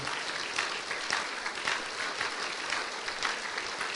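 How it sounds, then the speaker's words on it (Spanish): A church congregation applauds the Lord at the close of a sermon, steady sustained clapping from many hands at moderate volume, with no talk over it. "Dele un aplauso fuerte al Señor y demos gracias a Él."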